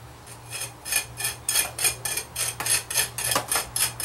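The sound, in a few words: comb-like scratcher tool scraping wet stucco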